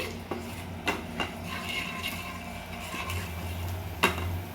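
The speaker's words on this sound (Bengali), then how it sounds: "তো চিনিটা একটু গলিয়ে নিচ্ছি" Sugar melting in a pan for a crab masala, with a low steady sizzle and a few sharp scrapes and clinks of a utensil against the pan at irregular intervals.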